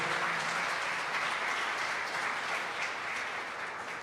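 A congregation applauds during a Sunday church service, steady dense clapping sustained throughout without pause, moderately distant and even in level.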